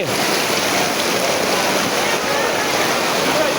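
Deep floodwater surges through a flooded city street with a loud, constant roar of rushing water that fills the whole clip.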